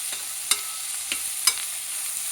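Onions fry in oil in a pan with a steady soft hiss, broken by a handful of light spatula taps and scrapes against the pan, heard up close with nobody speaking.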